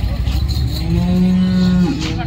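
A cow gives one loud, drawn-out moo close by at a busy cattle market, rising and holding before trailing off over a constant background of crowd noise.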